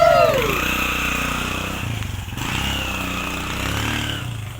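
A motorcycle engine runs close by with a steady, rough drone and slight revving throughout, with a brief whine at the start and faint background voices.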